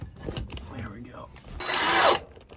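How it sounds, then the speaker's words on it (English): A power drill whirs in one short, loud burst of about half a second, preceded by quieter handling noises and faint background sounds. "I think I'm just gonna drill right here"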